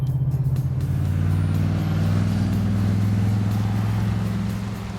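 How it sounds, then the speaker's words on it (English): A half-ton pickup truck with a stainless steel dual exhaust drives steadily, its deep, even engine drone holding loud and close for about five seconds before easing slightly at the end. "stainless steel dual exhaust system produces a pleasing performance truck sort of sound."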